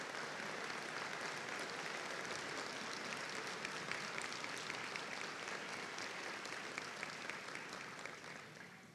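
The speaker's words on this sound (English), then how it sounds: "please give an applause to the foundation members once again that are on the stage" At a spring morning college ceremony, the audience applauds the foundation members on stage with continuous, even clapping that fills the hall, heard somewhat distant and steady throughout before easing slightly at the end.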